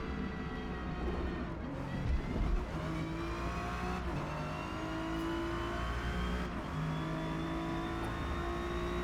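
An Acura NSX race car engine in Forza Motorsport, driven in S class at Yas Marina, drones steadily at high revs, with rising and falling tones as it shifts and accelerates through the laps, loud and continuous with no talk.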